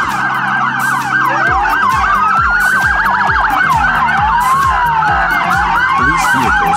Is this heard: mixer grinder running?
no